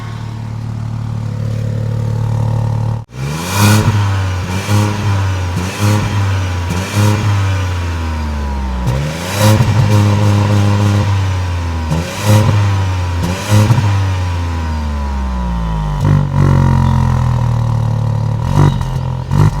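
A Tata Altroz Racer car starting up and then revving repeatedly, loud rising and falling engine and exhaust roar in several close blips over a steady idle.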